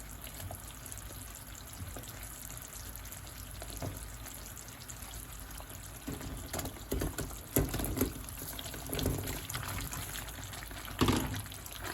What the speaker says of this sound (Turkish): İncirlerimi içerisine ilave ediyorum.